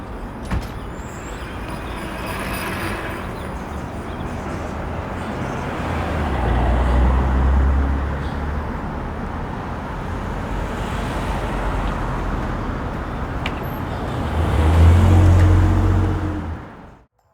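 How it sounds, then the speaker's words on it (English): Road traffic passes steadily in a wide stereo field, with a continuous roar of cars and a bus, two louder low-rumbling vehicles swelling past, and a faint hiss like an air brake near the end. "I used the XY wide mode to capture some traffic sounds that were used in the film."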